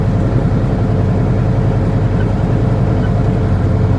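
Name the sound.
semi truck engine brake on steep downgrade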